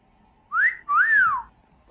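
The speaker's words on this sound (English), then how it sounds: "Wait, you tried to whistle?" A person whistles two short rising-falling notes, the second longer, clear and close against a quiet background.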